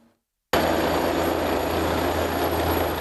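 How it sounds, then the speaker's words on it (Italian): SUEM 118 emergency helicopter landing on a sports field, a loud continuous rotor and engine roar that cuts in abruptly after a short silence and holds steady. "L'elicottero del SUEM 118 che atterra sul campo sportivo davanti a centinaia di studenti"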